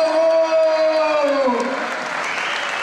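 A boxing crowd applauds as fighter Michel Soro is introduced, dense clapping with a sustained voice tone over it at first, then a steady wash of applause that continues alone.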